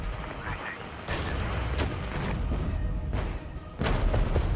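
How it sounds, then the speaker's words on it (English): Mortar rounds landing in the Regiments war game, several heavy booms and blasts a second or so apart over continuous battlefield rumble, with a voice talking during the barrage. "Oh, more mortars from over here again."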